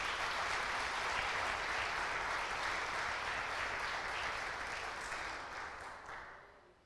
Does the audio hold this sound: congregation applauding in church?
yes